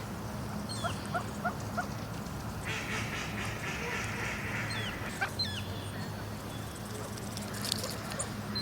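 Ducks quacking at a local duck pond, a few scattered calls over a steady low outdoor hum, with faint background noise throughout.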